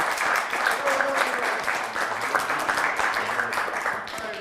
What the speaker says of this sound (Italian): fatemi un applauso perché Daniele lo sapeva.